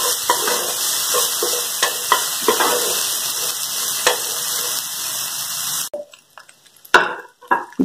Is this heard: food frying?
yes